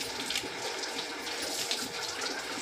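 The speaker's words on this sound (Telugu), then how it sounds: "గుమ్మం ముందు అయితే వాటర్ని చిమ్ముకుంటాను." Water splashed onto the ground in front of a house doorway, a continuous close rushing and spattering wash without pauses or voices.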